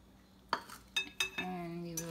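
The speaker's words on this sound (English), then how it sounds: "And we will just continue on stirring it until we reach our desired consistency" A spoon clinks and scrapes against a bowl while milk is stirred into a no-bake chocolate cake mixture, a few distinct metallic taps spaced across a couple of seconds, fairly close and moderately loud.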